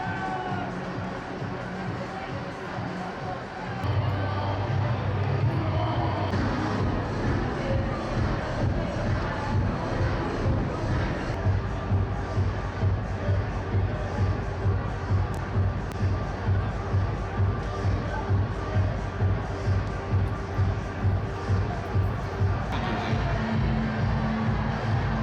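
Arena crowd at a hockey game with Pittsburgh and Florida jerseys around, a dense babble of voices and shuffling with a low steady hum and rhythmic thumping underneath, loud and close throughout.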